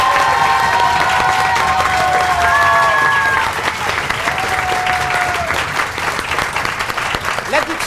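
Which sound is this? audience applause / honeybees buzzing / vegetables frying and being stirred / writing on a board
audience applause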